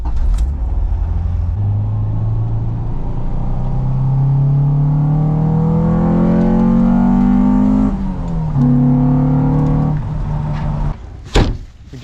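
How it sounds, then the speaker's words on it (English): A Nissan 300ZX Z32 pulls away on a test drive, its engine loud and close from inside, revving up through the gears with rising tones and gear-change dips, ending with a sharp knock or thump. "With every repair or maintenance item comes a test drive."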